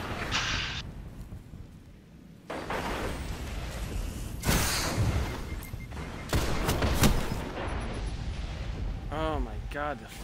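Fusion rifle fire in the video game Destiny, during an Iron Banner match: several loud, sharp blasts and charged bursts over busy game audio, with a voice speaking now and then.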